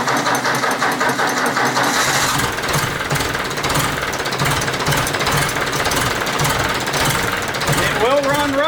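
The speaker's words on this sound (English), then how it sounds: "Now this tractor should start hitting and should fire off." A Ford 172 diesel tractor engine cranks, catches and runs rough, a loud, close, hammering knock throughout that settles into uneven running near the end.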